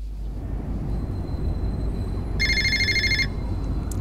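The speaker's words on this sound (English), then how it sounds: "Phone." A phone rings once in the Fahrenheit video game, a short electronic trill lasting under a second over a steady low ambient rumble, with no talking.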